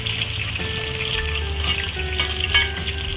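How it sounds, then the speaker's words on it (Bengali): Koi fish sizzle steadily in hot oil in a pan, a close, continuous crackling fry with faint stirring and no talk. "এই কই মাছগুলো প্রায় ভাজা হয়ে গেছে"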